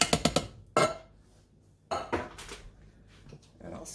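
Metal utensil clinks and scrapes in a pot of chili sauce with crushed tomatoes and tomato sauce, a quick burst of close clatter followed by a few louder scraping strokes and pauses.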